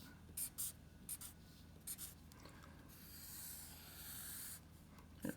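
Pen strokes on paper while sketching a cat: soft, close scratching and rubbing in short bursts with pauses, plus a longer steady stroke in the middle, quiet and with no talking.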